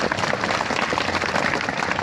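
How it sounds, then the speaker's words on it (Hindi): A village crowd at a school celebration applauds soldiers' daughters who won gold medals, with dense, continuous clapping at a steady level and no break. "बच्चों के लिए जोरदार ताली लगा।"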